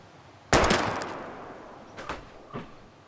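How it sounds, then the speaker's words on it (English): A single gunshot in the video game Life is Strange, a sharp, loud crack that decays quickly, followed by two fainter thuds. No one speaks. "You shot the gun."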